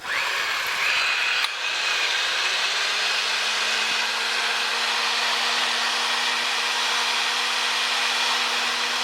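A homemade foot-pedal pipe threading machine runs steadily in reverse, giving a continuous loud motor whine with a low hum that rises in pitch and holds, with no talk.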